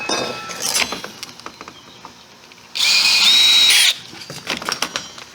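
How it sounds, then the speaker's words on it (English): A power drill bores out a hole during brickwork on an east planter, giving one steady, loud, close whine lasting about a second between quieter clinks and handling noises. "drill it out the same size just to get it opened up a little bit"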